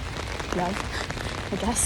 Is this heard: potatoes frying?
no